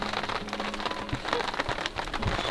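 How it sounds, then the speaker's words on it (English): Heavy rain pours onto a campsite in Boulder, Colorado, a dense, steady hiss of drops drumming on nearby surfaces, with louder splatters scattered throughout and no voices. "Okay, it's like really raining."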